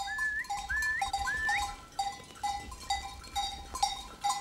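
Goats bleat intermittently outdoors in Collepardo, Italy, alongside a herder's rising whistled notes, with faint bells and shuffling in the background.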